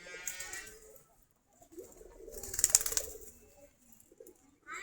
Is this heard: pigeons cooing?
yes